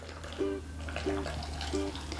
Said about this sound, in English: So now all I gotta do is top it up with hot water